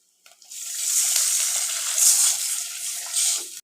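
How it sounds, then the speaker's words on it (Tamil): Water poured into a hot pan of softened cabbage and onion while making upma, giving a steady hissing sizzle that swells and surges for several seconds, close and fairly loud, with no talk. "இப்போ நம்ம தண்ணி ஊற்றிக்கலாம்."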